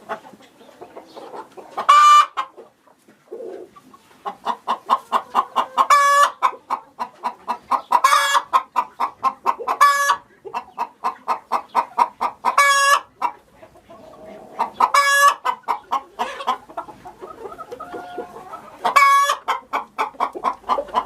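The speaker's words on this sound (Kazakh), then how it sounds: "Tavuk." Chickens cluck loudly and close, in rapid repeated bursts, with a few sharper calls mixed in and no voices present.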